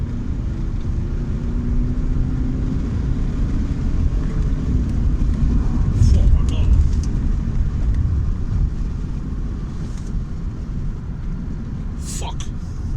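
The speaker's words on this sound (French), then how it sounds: "j'ai envie d'accélérer un petit peu. 0 à 80 toujours" A Mercedes car accelerating from a standstill to 80 km/h, heard from inside as a steady low engine rumble and road roar that swells slightly midway, with someone talking over it.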